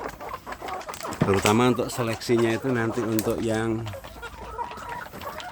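Free-range village roosters and hens cluck and crow nearby in a farmyard, a loud drawn-out call rising over background clucking, while someone talks over the birds.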